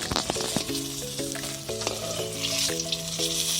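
Brinjal slices frying in a pan, a steady close sizzle that runs throughout, with sustained tonal music playing over it and no speech.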